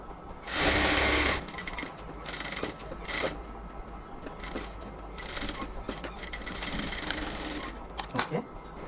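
Sewing machine stitching the side seam of a luxury cotton dress, a loud close whirring run near the start followed by shorter stitching bursts and handling noises.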